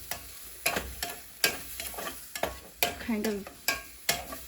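Ingredients for ramen rasta pasta sautéing in a pan, with a quiet sizzle broken by a steady series of spatula scrapes and stirs about every half second, and a couple of words spoken briefly.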